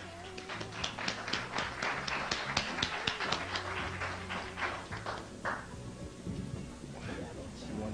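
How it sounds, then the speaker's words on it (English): Audience applause welcomes someone speaker onto a stage, a dense burst of clapping that peaks early and tapers off, with voices over it. "Let's bring her on with a round of applause."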